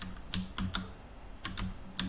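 Several sharp computer keyboard key presses, the C key struck repeatedly during a Manifold Garden test session, in irregular bursts of two or three clicks, close and fairly quiet, with no talking.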